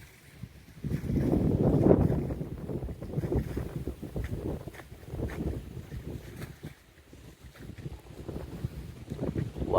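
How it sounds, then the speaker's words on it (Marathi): Strong, gusty wind sweeps across an open farm under stormy, cloudy skies before rain. It roars and buffets the microphone in uneven surges, loudest early on, then eases and rises again. No one speaks. "हवा पण एकदम जोरात सुटली आहे, थोडं वादळी वाऱ्यासारखं वातावरण आहे"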